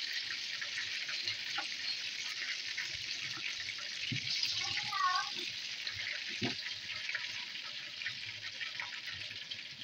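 Fish frying in a pan, a steady broad sizzle holding throughout at moderate level, with faint background noises and a brief higher tonal sound near the middle.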